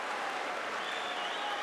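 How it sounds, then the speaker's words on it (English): Sumo tournament crowd in Osaka applauding and cheering an upset win over an ozeki, a dense sustained roar of clapping that stays loud and even throughout. "The crowd is going wild as the Osaka native Ura defeats the Ozeki."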